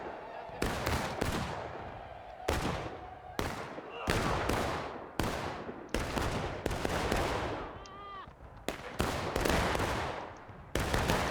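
Rolling musket volleys in the Civil War video game War of Rights during a public match at Alexander Farm: repeated loud, cracking discharges in quick irregular succession, some overlapping, with echoing tails.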